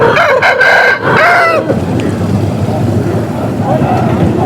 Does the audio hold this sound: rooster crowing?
yes